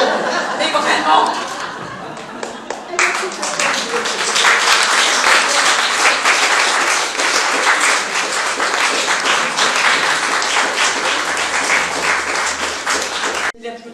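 Theatre audience breaking into loud, sustained applause that swells after a few seconds of chatter and laughter, dense clapping filling the room before cutting off abruptly.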